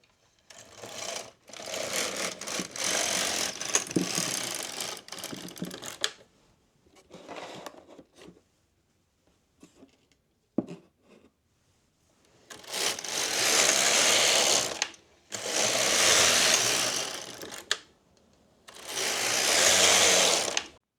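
Knitting machine working rows of waste yarn for a hat with a picot hem: loud mechanical whirring carriage passes in bursts, several long runs early then three steady sweeps after a pause, no talk.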